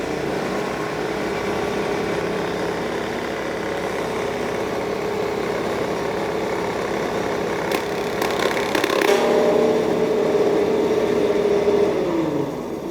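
A power nibbler cutting tool runs steadily at high speed, a continuous loud motor whine with rattling chatter that shifts pitch slightly partway through, close to the listener.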